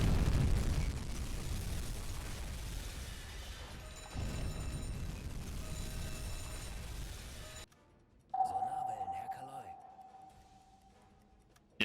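A torpedo striking a ship amidships in the U-boat game UBOAT sets off a loud, sustained explosive rumble that cuts off abruptly, followed by a low tone and a quieter burst near the end.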